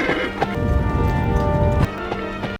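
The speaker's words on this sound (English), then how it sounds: "His horse waited, pacing at the gate, battered but loyal." Hooves of a battle-worn horse pacing at a gate, heard as steady clip-clopping over a dense, full-band backdrop of music and ambience, with a few sharper hoof strikes standing out before everything cuts off abruptly.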